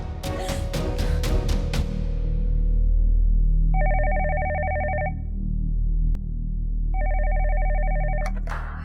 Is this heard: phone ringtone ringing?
yes